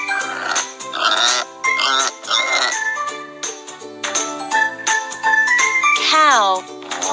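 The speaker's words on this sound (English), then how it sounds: "Pig." Cartoon pig oinking and grunting in a children's farm animal puzzle game, short snorting calls layered over bright, tinkly jingle music that plays throughout.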